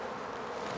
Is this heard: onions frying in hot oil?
no